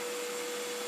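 A vacuum cleaner runs with a steady, even motor whine as a child vacuums the walls, close and moderately quiet, lasting under a second with no talk.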